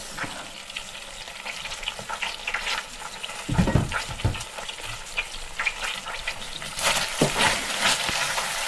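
Onions sizzling and frying in a pan with longganisa sausage, a steady crackling hiss broken by stirring scrapes and occasional louder bursts of spattering, heard close and alone.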